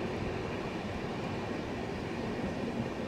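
Kamakhya Puri Express passenger train rounding a curve onto the Diana bridge in the Dooars during rain, a steady, close, unbroken rumble of wheels and carriages with no voices.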